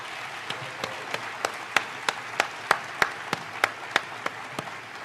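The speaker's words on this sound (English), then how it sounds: "Let's give these students another big round of applause" An audience at a mayor's State of the City address applauds students, a bed of soft clapping punctuated by roughly a dozen sharp, evenly spaced loud claps near the microphone.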